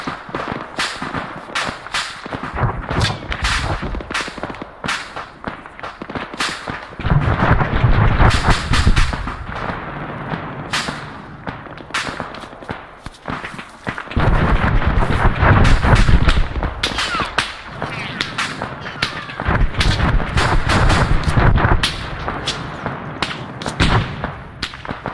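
Rapid, repeated gunfire in a game match, with many sharp loud shots in bursts and near-continuous volleys lasting throughout, some close and heavy, others overlapping in the background.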